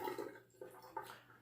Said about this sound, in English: time to rinse the razor again